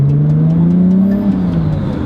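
Nissan Skyline R32 GTR engine pulling away, a loud close steady drone that rises slightly in pitch and then eases, continuous for two seconds.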